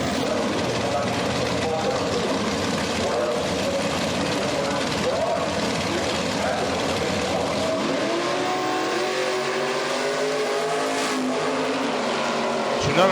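A 1963 Corvette Stingray and a Bantam roadster drag race at Beech Bend Raceway's Hot Rod Reunion, with loud sustained engine roar swelling and climbing in pitch toward the end while an announcer talks over it.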